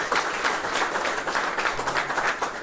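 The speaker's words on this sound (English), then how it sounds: "Y'all give the trustees a round of applause." Steady applause and clapping from an audience fills a news conference for Alabama State and Alabama A&M trustees, a dense, continuous wash of hands with no pauses.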